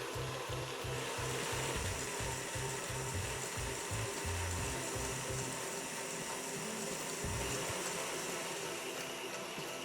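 An electric mixer beating a pear and chocolate cake mixture in a bowl, giving a steady close whir with a fast rhythmic rumbling pulse underneath, loud and continuous throughout.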